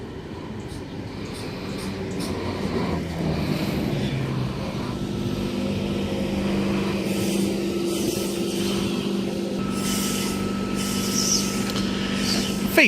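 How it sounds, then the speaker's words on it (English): A V set electric passenger train pulls away from platform 2 at Medlow Bath, a steady mid-distance rumble of motors and wheels that holds level throughout with faint rail noise above it. "V40 and friend now departing platform number 2 for a Mount Victoria service."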